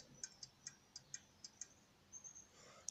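An antique sideboard pendulum clock ticking, faint, evenly spaced metallic ticks in a steady rhythm, heard close and alone in a quiet room.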